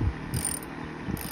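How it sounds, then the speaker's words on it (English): A ratchet wrench with a 13 millimeter socket tightening a bolt on an SRM 225 or SRM-2620 gear head, giving a few short close clicking strokes in a quiet setting. "Tighten it down real good. With your 13 millimeter socket or half inch"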